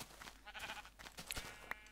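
Sheep bleating in the Minecraft video game, a few short game-sound bleats over a faint background, fairly quiet with no talking.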